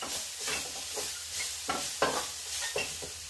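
A garam masala mixture is stirred in a pan for cutlets, a spoon scraping in repeated strokes over a steady low sizzle, with no one talking.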